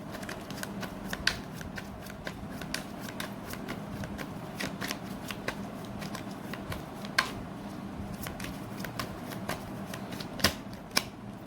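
Tarot cards being shuffled by hand, a steady run of soft riffling slaps and crisp flicks at close range, fairly quiet, with no voice over them.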